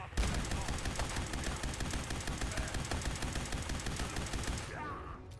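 Rapid pistol gunfire from the video game Fallout 4 rattles in a dense, continuous burst of shots, loud and steady, stopping abruptly near the end.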